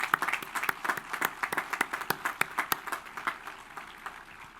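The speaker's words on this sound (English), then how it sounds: "Thank you for joining me in that round of applause to thank her for her hard work and dedication." A round of applause at a law school commencement ceremony honours a retiring law library assistant. Steady, moderately faint clapping from a crowd fills the hall, with individual claps standing out, then tapers off.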